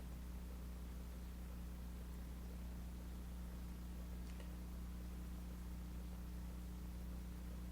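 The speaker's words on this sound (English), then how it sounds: "It's designed to make white noise." Steady hiss of radio static from a homemade white-noise generator built out of basement junk, broadband and unchanging with a low hum beneath, faint and continuous, no voices.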